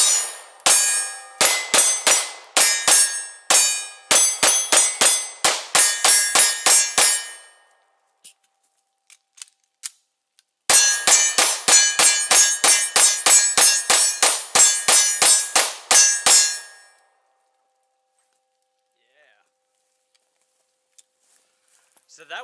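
Canik TP9DA pistol fired at a steel target, two rapid strings of sharp shots with ringing metallic clangs, each string lasting several seconds, separated by a quiet pause with a few faint clicks.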